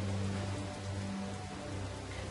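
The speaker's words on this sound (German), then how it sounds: "Vielen Dank für den Regen, Effert." Steady rain falls in the video game Satinavs Ketten as a soft, continuous hiss of drops on surfaces, faint and unbroken with no voices.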